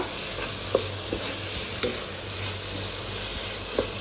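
Masala for chicken curry is stirred in a pan with a soft steady sizzle, while a spoon scrapes and taps at a few irregular moments, close and alone.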